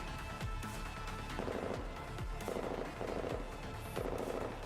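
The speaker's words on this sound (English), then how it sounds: "The sound of gunfire fades behind them." Gunfire in the Girls' Frontline game, a steady stream of rapid shots with a few heavier bursts, fairly quiet and alone.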